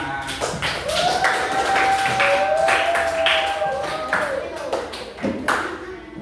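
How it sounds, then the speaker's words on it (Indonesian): Group applause in a classroom for student group 5 after a digital content presentation, a steady patter of clapping hands running throughout, with scattered taps and a clear ringing tone under it. "tepuk tangan untuk kelompok 5"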